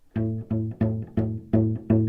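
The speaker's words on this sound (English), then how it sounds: "at the beginning you might have more plucking sound like this" Six plucked low cello notes on unpressed open strings sound one after another at an even pace, each with a short, slightly muted decay.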